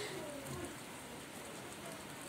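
Rainwater poured over a potted ornamental plant, a steady soft patter and trickle of water on leaves and soil, quiet and continuous throughout.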